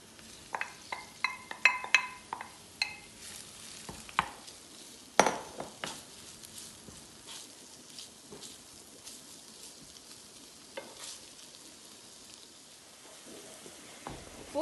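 Minced meat for chili con carne frying in a pan after peppers have been cooked, giving a continuous faint sizzle with sharp scraping and stirring clicks that cluster early and then thin out.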